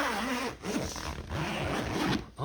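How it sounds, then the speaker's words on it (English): Zipper on a Polaris RZR soft door being pulled in several quick, rasping strokes, close and fairly quiet, with short pauses between pulls. "These zippers."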